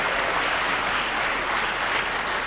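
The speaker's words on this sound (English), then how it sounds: "a very big round of applause for the auxiliary percussionist" An audience at a district jazz festival claps loudly and continuously in dense, even applause for a band percussionist.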